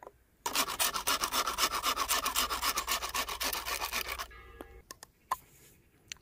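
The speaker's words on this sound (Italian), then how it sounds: "sto rimuovendo un po di quella corteccia sottilissima che il bambù ha sopra di esso in modo da esporre le fibre" Thin outer bark being scraped off a length of bamboo with a blade for a bushcraft incense holder, a close, steady run of fast rasping strokes that stops abruptly, followed by a few isolated scrapes.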